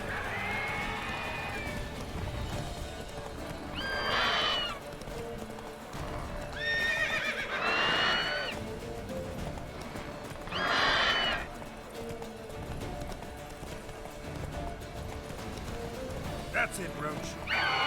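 Roach the horse from The Witcher 3 gallops with steady clip-clop hoofbeats and lets out several loud neighs and whinnies, set against game music and combat noise.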